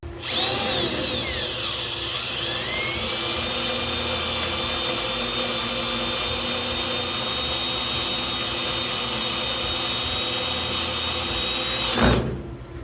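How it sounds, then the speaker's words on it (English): A power drill with a Milwaukee drill bit whines steadily and loudly for about twelve seconds as the bit bores through material, then cuts off abruptly at the end. "That is a quality drill bit right there."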